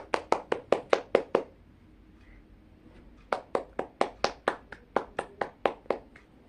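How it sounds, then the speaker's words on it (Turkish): Sharp, close hand claps in two bursts, about eight quick claps, then a pause of nearly two seconds, then a longer run of steady claps, each one crisp and distinct in a quiet room. "Alkışlayalım."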